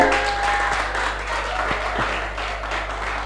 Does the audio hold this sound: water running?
no